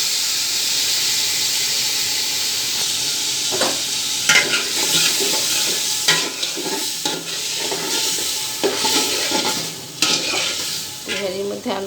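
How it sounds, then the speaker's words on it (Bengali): Potatoes fry in hot oil in a pan while beef tehari is being cooked. A steady, fairly loud sizzle runs throughout, broken by scraping stirs. No one speaks. "তেলটা গরম হয়ে আসলে আমি এখানে আলুটা দিয়ে দেবো। ভেজে নেবো প্রথমে।"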